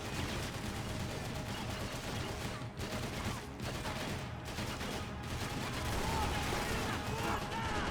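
Constant gunfire from the Max Payne 3 bank robbery fight, dense and loud throughout with rapid bursts and heavy shots packed together, and a voice speaking faintly underneath.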